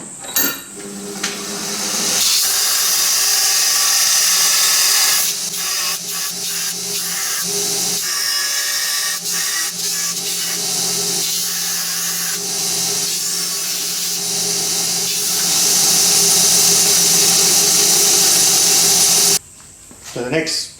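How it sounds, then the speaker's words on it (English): An angle grinder shapes the end of a steel strap for a fabricated garden bridge, a loud bright grinding that runs near continuously with short pauses and shifts in pitch, ending in a sudden stop. "grind that to shape, and we'll do that on one end of each of the straps"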